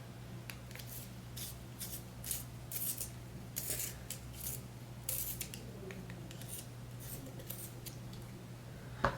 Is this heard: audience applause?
no